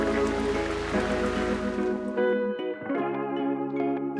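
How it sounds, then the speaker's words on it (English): An afternoon tropical downpour in Sulawesi, Indonesia, sounds as dense, hissing rain that thins after two seconds. Sustained tonal layers run over it and stay loud and close. "when the afternoon tropical downpour comes,"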